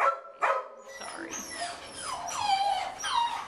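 A male collie mix dog whimpers and gives high yips, a sharp yelp near the start followed by a run of rising and falling whines, close and fairly loud.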